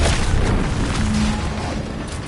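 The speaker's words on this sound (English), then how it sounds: "What's that? An explosion?" An explosion in Outer Worlds 2 hits as a loud, deep boom and rumble that rolls on and slowly fades over about two seconds, with no speech.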